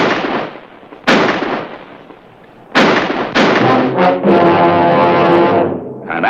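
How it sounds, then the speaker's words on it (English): Gunshots ring out in a western film set near Tombstone, several sharp loud cracks with echoing tails, each followed by a sustained blast or roar. "Wait till I get off the first shot."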